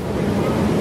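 Water rushes along the flume of a theme park log ride, a loud continuous wash mixed with wind buffeting close to the listener.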